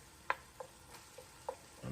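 Hamburger meat browning in a pan for taco soup, a faint low sizzle under a few sharp spatula clicks and scrapes as it is stirred, close and quiet with no talking.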